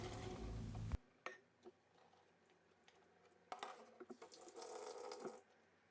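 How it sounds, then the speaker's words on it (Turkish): Boiled chickpeas and meat drained in a kitchen sink after a loud burst at the start; water then pours and splashes in uneven surges with a few clanks of the pot, close by and with no talking. "Hemen altını kapatıyorum ve süzüyorum"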